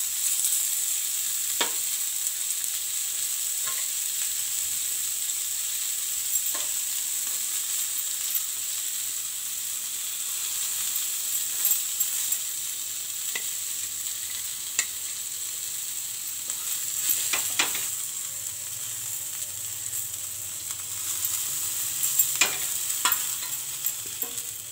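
Village-style fish fries in a pan with a constant bright sizzle, and a utensil stirring and scraping at it in scattered clicks throughout.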